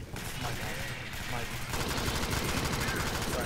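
Rapid, sustained gunfire rattles throughout a round of the co-op shooter Alien Swarm: Reactive Drop, dense and continuous, mixed with players' voices.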